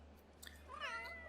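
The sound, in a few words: cats meowing in The Sims 3 video game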